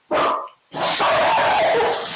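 A dog barks sharply nearby, one short burst, a brief pause, then a longer run of loud excited barking and yelping indoors.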